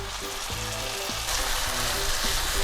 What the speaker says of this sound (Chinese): 黄油融化了之后，咱们加洋葱，炒到洋葱稍微有一些变软的时候